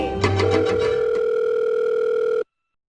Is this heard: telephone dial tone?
yes